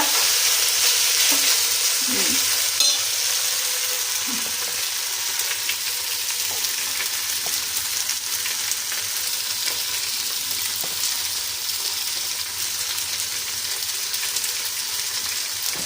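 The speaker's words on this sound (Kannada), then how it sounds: "ನೋಡಿ ಇದನ್ನ ಹಾಕ್ಕೊಂಡು ತುಪ್ಪದಲ್ಲಿ ಹಿಂಗೆ ಫ್ರೈ ಮಾಡ್ಕೋಬೇಕು" Broken wheat sizzles steadily as it fries in ghee for payasa, a dense crackling hiss running throughout with a few soft stirring scrapes near the start and no talk.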